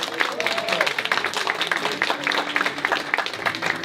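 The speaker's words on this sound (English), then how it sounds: "Round of applause for Jalen Sosa." An audience at a school program event bursts into applause, a busy crackle of many hands clapping at close range, fairly loud and unbroken.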